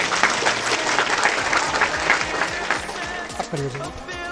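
An audience of students and guests at an Indian inter-college quiz contest breaks into loud, dense applause after a correct answer, close and continuous, fading slightly toward the end as a voice begins.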